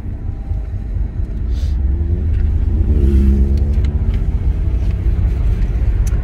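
A car engine rumbles and revs up as the car accelerates on a test drive, loud and close from inside the cabin, rising steadily with no talking.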